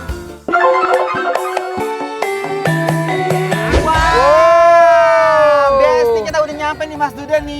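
A packed breakfast eatery in Jogja is loud with crowd noise. Voices shout and call out close by, and a dense, lively din carries on throughout.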